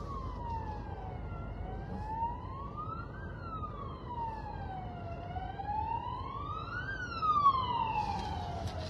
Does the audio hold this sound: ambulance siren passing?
yes